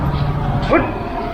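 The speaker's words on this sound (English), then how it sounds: "I have never been somewhere in India with so many stray dogs." A single short stray dog yip or whimper rises briefly over loud background noise and chatter, on a street in Gujarat, India.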